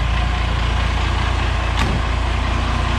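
A Loadstar truck's diesel engine idles steadily right after starting, producing a loud, continuous rumbling drone at close range with a brief hiss partway through.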